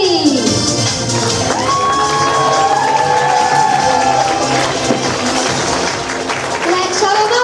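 Audience at an evening theatre show applauding and cheering for a performer, loud sustained clapping mixed with crowd cheers and excited shouting that stays strong throughout.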